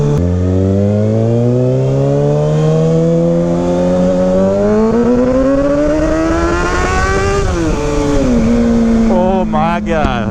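Kawasaki ZX6R sport bike with a Graves exhaust revving hard inside a tunnel, a loud continuous engine scream rising steadily in pitch with echoing reverberation, briefly dipping and climbing again before quick throttle blips at the end.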